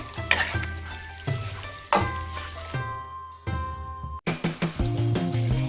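Chicken with carrots and black mushrooms stirred in a hot pan, sizzling and frying loudly alongside a deep low hum, with spatula scrapes and clatters; the sizzle briefly drops away midway, then resumes strongly.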